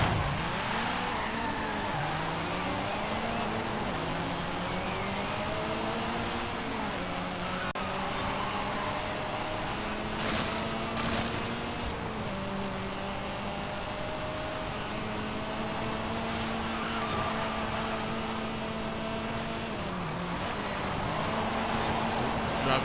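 A Mitsubishi Galant VR-4 in a Forza Horizon 5 sprint race, the engine revving up and dropping through gear shifts, loud and continuous for the whole clip, with no talk.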